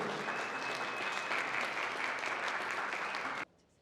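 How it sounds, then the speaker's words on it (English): Steady applause from an awards ceremony crowd, dense and even, ending abruptly with a quick cut to near silence. "Big round of applause for the zoning shorts."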